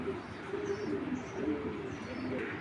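Pakistani pigeons in a loft coo softly and continuously, low rolling calls layered over one another at close range, with faint chirps and light background noise.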